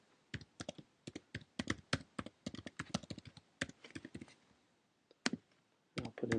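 Rapid bursts of keystrokes on a computer keyboard as a password is entered, close and crisp, in uneven clusters with short pauses between, with no talking.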